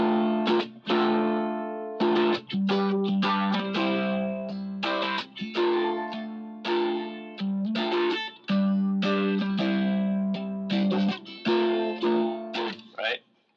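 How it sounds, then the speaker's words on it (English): An all-plastic Enya electric ukulele played through an amp sound with reverb, its loud strummed chords ringing out in repeated phrases with short gaps between them. "I had the ukulele plugged in, and this is a electric ukulele by Enya, by the way. It's completely plastic. And then I added the amp sound and some reverb."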